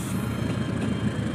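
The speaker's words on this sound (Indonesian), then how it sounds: "Ada kereta juga guys." A train rolls past close to a rice paddy, a steady loud rumble of wheels on rails with a faint metallic edge, heard alone without talk.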